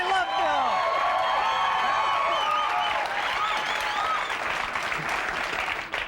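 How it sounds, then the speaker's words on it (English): A studio audience breaks into loud, sustained applause and cheering for Bill Nye the Science Guy, a dense wall of clapping that holds steady before tapering at the end. "Please give a warm round of applause for Bill Nye, the Science Guy."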